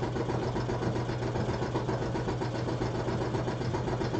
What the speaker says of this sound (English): I just got the air compressor going in case I need to blow anything off